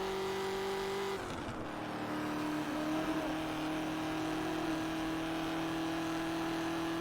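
Ford GT engine in Test Drive Unlimited, a steady loud drone that dips briefly as the car shifts, then settles back into a sustained, even tone.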